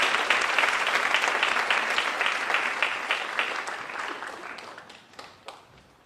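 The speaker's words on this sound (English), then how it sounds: "Let's give a big round of applause to Claudia Markowski for her incredible tale" A crowd at a high school senior awards ceremony claps for an award winner, a dense burst of applause that gradually thins and fades over about six seconds, ending in a few scattered claps.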